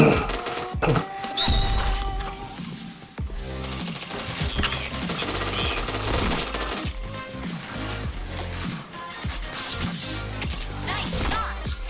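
Rapid gunfire in the shooter Point Blank, with dense bursts of shots and game effects running throughout, loud and near, while a player talks over the action.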